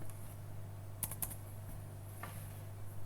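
Quiet keystrokes on a computer keyboard come in a short cluster of clicks with a few scattered taps over a low electrical hum, with no voice.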